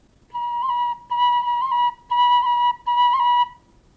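Irish tin whistle phrase of four sustained notes separated by short breaks, ornamented with quick pinky-finger cuts that add tiny flicks of pitch; clear, close and solo with no talking.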